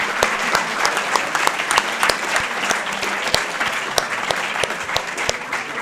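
At a French science olympiad prize ceremony, the audience applauds a winning team with steady clapping, individual sharp hand claps standing out crisply over the crowd's sustained patter.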